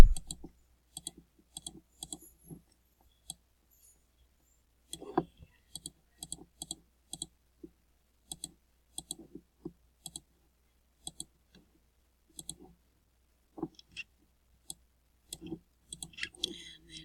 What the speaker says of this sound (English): I'm going to hold the control button down and click all the others that I want